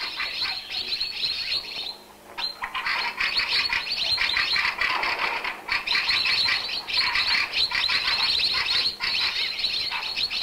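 Dense chorus of migratory birds chirping and calling continuously near a bird-trapping net, bright overlapping tweets with fluttering wing sounds, steady and close.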